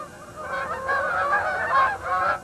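A young flock of geese flying alongside a flying contraption, their nasal honks calling repeatedly in a close, overlapping chorus with no talk.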